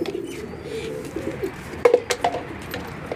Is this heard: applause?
no